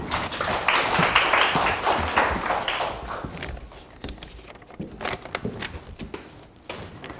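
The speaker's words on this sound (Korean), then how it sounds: "박수 한번 쳐주십시오" An audience at a bar exam prep course information session claps, a moderate round that swells early and then thins into scattered, sparse claps, with a few knocks and shuffling sounds in the room.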